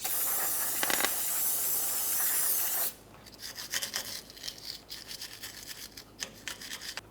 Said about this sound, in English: For this, we'll use some parts cleaner and a little wire brush.